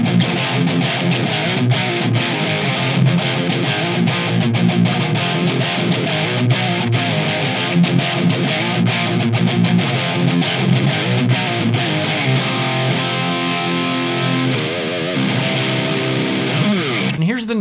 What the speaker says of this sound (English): Let's coil tap the bridge and I'll show you what that sounds like.